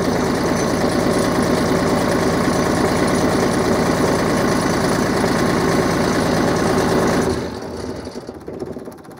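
An MEP 1040 military generator engine runs starved of fuel, a loud, close, rough mechanical chugging with a fast knocking rhythm that drops off sharply near the end as the engine dies.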